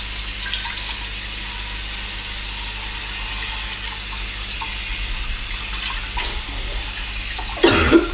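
Tap water runs steadily into a pan in a kitchen sink, a continuous close splashing rush that grows fuller toward the end, with a brief clatter at the finish.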